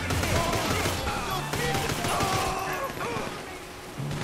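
Mini submachine gun firing in a GTA V gang-war shootout: a loud, dense, unbroken fusillade of rapid shots and impacts lasting a few seconds, with faint voices under the gunfire.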